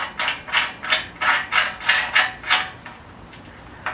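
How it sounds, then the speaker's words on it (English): A nut being threaded onto a bolt and tightened down on a shaved C10 bumper, heard as a steady series of about eight close, crisp ratcheting clicks in even rhythm that then stops. "We're going to thread the nut on there and tighten it down."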